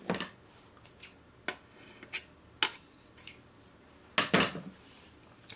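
Scissors snip through friendship bracelet string in a handful of separate, crisp cuts spaced a second or so apart, close and fairly quiet with no talking.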